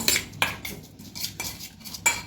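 Spiced corn flour dough with chili flakes being mixed in a bowl for homemade nachos, heard as a run of close, distinct clinks and scrapes of a utensil against the dish, repeating every half second or so.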